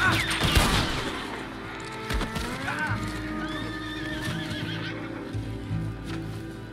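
Horses of approaching riders gallop across a Wild West video game landscape, a loud near whinny opening over steady clip-clopping hoofbeats that keep pounding on for several seconds.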